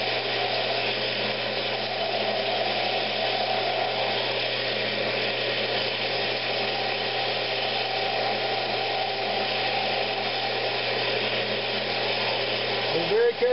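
A woodturning lathe spins steadily while a tool shapes a wooden Christmas ornament, giving a continuous close whirring drone with a faint scraping texture that holds for the whole stretch.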